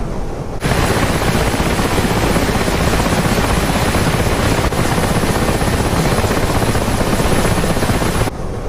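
Helicopter with a Turbomeca 8R engine in the DCS combat flight simulator, a steady loud broadband turbine and rotor roar holding constant for about eight seconds, alone with no talk.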